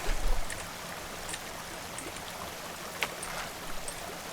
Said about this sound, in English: I see that water is actually escaping here.